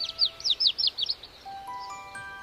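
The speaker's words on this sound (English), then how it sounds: "Did you hear that? A little bird needs help." Small cartoon bird chirping in a children's animated shape adventure: a quick run of about six bright, high tweets close up, followed by a soft sustained musical tone, with no speech.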